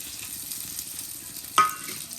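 Stuffed karela (bitter gourd) frying in oil with browned onions added, a soft steady sizzle with a brief clatter and spatter partway through.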